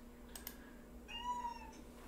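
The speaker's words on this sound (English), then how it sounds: "There's one of my little cats here wanting to talk." A pet house cat lets out a short, plaintive meow close by in a quiet room, preceded by a couple of faint clicks, with no one talking.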